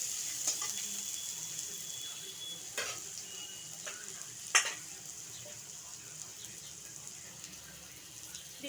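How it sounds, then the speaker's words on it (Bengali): Food frying lightly in a pan, a soft, faint sizzle with a few sharp utensil clinks and stirring scrapes scattered throughout. "হালকা করে ভাজতে হবে"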